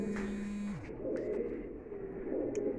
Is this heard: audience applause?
no